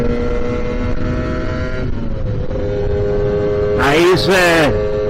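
A Lambretta BGM Clubman Sport scooter with a kick-back setup pulls away from a second-gear start, its two-stroke engine droning steadily then rising sharply in a loud rev and acceleration near the end.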